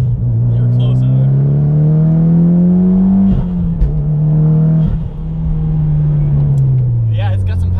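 A modified Mitsubishi Evo X GSR running on E85 accelerates through its gears, heard from inside the car as a loud engine drone rising in pitch, dipping briefly at gear changes, with people talking over it.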